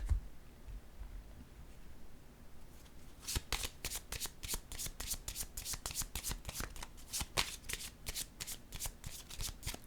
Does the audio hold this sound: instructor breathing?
no